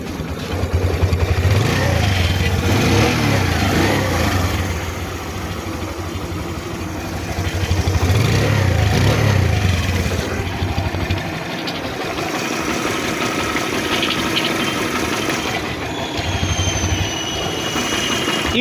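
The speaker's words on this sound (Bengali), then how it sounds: "ইঞ্জিনে বিন্দু মাত্র আপনি ব্যাড কোনো আওয়াজ পাবেন না বাইকটার" A Bajaj Caliber 115 motorcycle engine runs nearby at a steady idle, a loud low throbbing drone that rises briefly twice with light revs before settling back.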